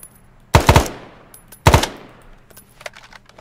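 Gunfire from the Vietnam War video game SOG Prairie Fire: two short, loud bursts of automatic fire about a second apart, each a quick rattle of three or four shots, with faint distant shots trailing after.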